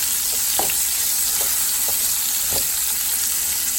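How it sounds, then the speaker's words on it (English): Vegetables with Scotch bonnet pepper sautéing in leftover fish-frying oil for Jamaican escovitch fish, a dense constant sizzle with a few soft stirring taps, close and loud, no voices. "What I'm going to do is saute these veggies up really nice."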